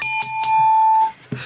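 A bright three-note ding-dong-dang chime marking a correct answer, clear bell tones ringing out and fading, followed by a short low thump.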